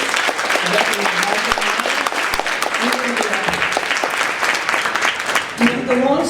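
Sustained audience applause at an awards honoree event, dense steady clapping from a crowd for about six seconds, with a few voices and cheers rising near the end.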